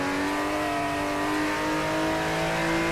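A Porsche 964 engine pulling hard in the Shutoko Revival Project racing game, a loud sustained rising engine tone with steady harmonic whine over nearly three seconds, no voices.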